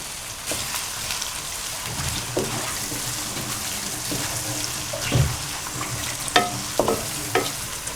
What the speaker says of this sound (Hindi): ऑयल गर्म हो गया। अब इसमें मैं ये डाल देता हूँ प्याज